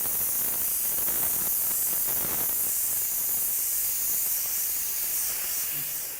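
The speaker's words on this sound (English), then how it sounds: "So now I start to spray some black again." A spray gun lays down black paint in a continuous, steady hiss of airflow lasting the whole stretch, close and fairly loud, with faint clicks in the background.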